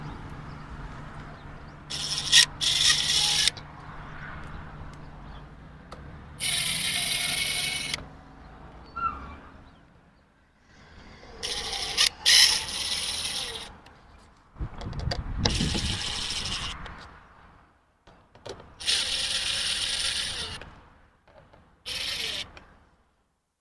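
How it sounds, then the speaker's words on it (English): A screw is driven into a part fitted onto an LG 6000 BTU air conditioner unit in a food truck: repeated short bursts of a power drill or driver whirring, separated by pauses with faint handling and rubbing sounds. "I'm going to put this on here, and we're going to screw it in"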